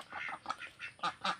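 Native country ducks quack in a rural setting: a run of several short, nasal quacks in uneven bursts, fairly close, with no talking.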